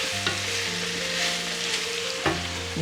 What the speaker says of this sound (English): there might be some sauteing sounds here, some frying ASMR in the background.